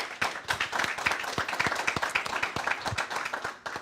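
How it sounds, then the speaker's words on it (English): An audience claps in steady, lively applause, a crowd of hands patting quickly and evenly throughout. "So let's give them a round of applause."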